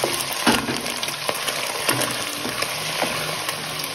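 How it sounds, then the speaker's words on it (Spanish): Bacon frying in very hot lard in a clay cazuela, a loud close steady sizzle and crackle with bursts of spattering as it is stirred, no voices. "Lo vamos a freír"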